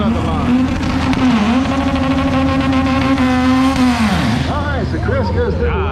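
A Honda doing a burnout at the start line of a drag strip: a loud, sustained engine drone with a steady high pitch that holds and then drops away near the end, with crowd chatter underneath.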